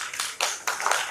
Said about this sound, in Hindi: ये तालियां थोड़ी कम नहीं होती हैं?